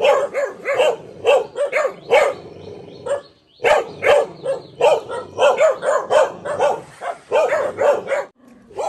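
A pack of dogs kept at a village home barks insistently, loud and near, with quick repeated yaps in clusters separated by brief pauses.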